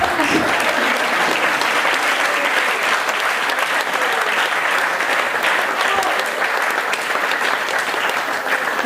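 Indoor audience applauding a youth music group at a Spanish-themed evening, steady dense clapping throughout, fairly close and sustained without a break.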